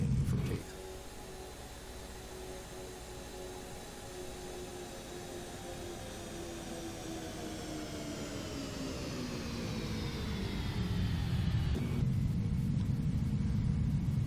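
Boeing 747-200 jet engines in a flight simulator spool up with a steady broadband roar and rising whine, growing louder over time, with a brief shift near the end; no talking.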